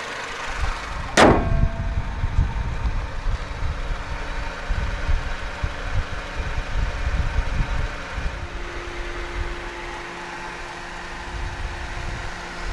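A front-wheel-drive 2013 Honda Accord 2.0 VTi-L with automatic transmission starts with a sharp crank burst, then settles into a steady low idle rumble that continues alone and fairly close.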